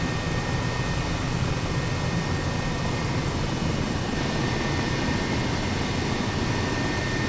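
Airbus H135 helicopter flying in Microsoft Flight Simulator, a steady loud engine and rotor drone that holds even and close for the whole stretch, with a slight shift in tone partway through.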